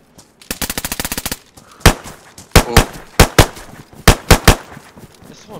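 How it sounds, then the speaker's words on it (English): Pistol gunfire in the survival video game DayZ: a rapid run of sharp shots early on, then about eight loud single shots spaced irregularly, with no talk over them. "There is another one with a pistol. Yeah, he's shooting at me."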